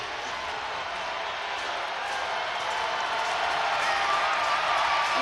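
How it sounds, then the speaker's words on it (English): Loud, steady roar of a women's college basketball crowd in an arena after a missed free throw, a dense sustained wash of voices that swells slightly toward the end. "Loud crowd for the first free throw that didn't fall."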